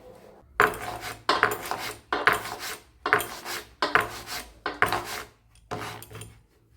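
A sheet of green-tinted rice-flour dough for dudh puli pitha is cut by hand into pieces, giving seven rhythmic scraping, rasping strokes, each about a second long with brief pauses between, close and moderately loud.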